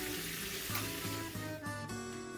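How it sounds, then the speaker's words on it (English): Portobello mushrooms sizzle and crackle steadily as they are basted in a hot pan beneath soft background music, a continuous frying hiss throughout. "we got a nice little sizzle going on here"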